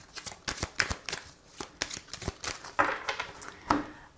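Oracle cards being shuffled close by, a rapid series of crisp papery riffles and flicks in uneven bursts, fairly loud and without speech.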